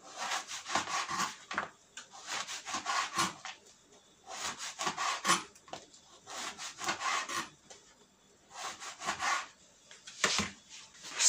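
A knife saws through bread on a wooden cutting board, making crisp rasping back-and-forth strokes in rhythmic groups with brief pauses between, close and clear.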